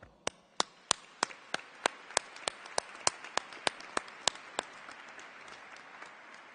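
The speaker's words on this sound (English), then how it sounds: "deserves a pronounced hand of applause." Applause at a business school commencement ceremony. A single clear, evenly spaced clap repeats about every third of a second, and fainter clapping from a larger crowd swells softly behind it.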